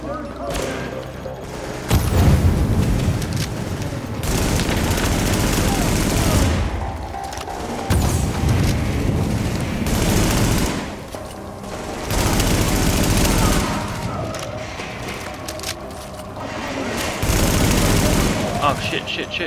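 A grenade explosion and bursts of gunfire from the video game Tom Clancy's The Division, with loud volleys of shots recurring in clusters and booming impacts that rise and fall across the scene.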